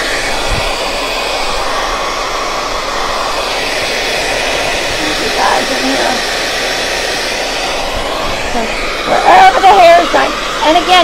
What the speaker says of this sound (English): I am drying all this hair up